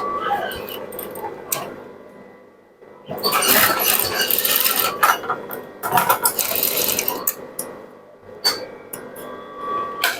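A sewing machine stitches a shirt collar in several short, close bursts of mechanical whirring, with someone talking between and over the runs and brief quiet gaps.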